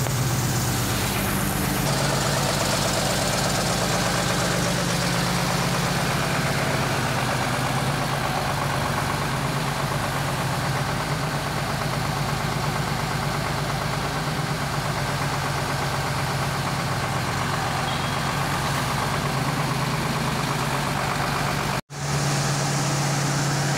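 A Mercedes-Benz 1214 bonneted truck from 1989 idles with a steady, loud, low diesel rumble close by. The engine holds an even note almost to the end, then cuts out briefly before the sound returns.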